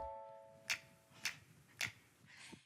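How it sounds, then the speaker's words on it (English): Fingers snap three times in a steady beat during a children's action song, crisp and close but fairly quiet, followed by a softer fourth click. "And can you make your fingers go snap"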